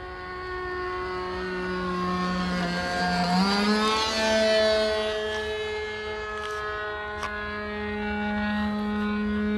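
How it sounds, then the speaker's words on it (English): A model aircraft engine at a flying field is revved to clear it, a steady high whine that climbs in pitch around the middle and holds loud and close throughout. "I'm going to take it and clear out the engine"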